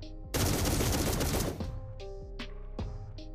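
Hero skill gunfire in a mobile battle game: a dense, loud burst of rapid automatic shots lasting over a second, followed by a few separate sharper shots and effects.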